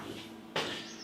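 A Krups beer dispenser's small door shuts with a single soft thud, followed by a faint steady hum of its fan in a quiet room.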